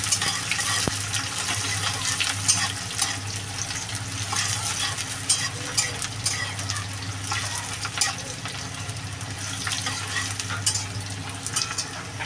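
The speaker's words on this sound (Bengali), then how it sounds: "পাতলা পাতলা করে কিছু খেতে ভালো করে লাল লাল করে ভেজে নেবো" Thinly sliced onions fry in a pan with a continuous sizzle, broken by frequent scraping and clicking strokes as a utensil stirs them, close and without speech.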